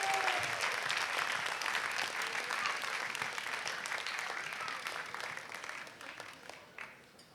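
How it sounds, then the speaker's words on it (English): A room full of people clapping at a CMC alumni reunion evening, a thick steady roar of applause that slowly thins and fades out over several seconds. "Can we give batch of 1970 another round of applause"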